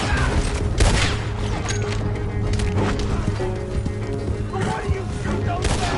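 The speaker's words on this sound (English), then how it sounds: "Gun them down!" Gunfire crackles through a shootout during a stagecoach robbery in Red Dead Redemption, dense overlapping shots and booms with horse hooves clattering, loud and continuous, with game voices shouting over the fighting.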